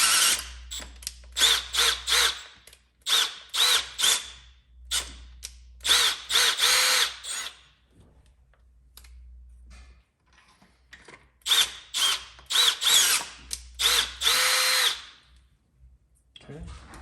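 A power drill drills out a head bolt hole in a 1997 Honda CR-V engine, whirring in repeated bursts of a few seconds each, separated by quiet pauses, close and loud with a low motor hum underneath.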